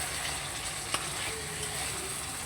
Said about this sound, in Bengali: হালকা করে একটু কষিয়ে নেব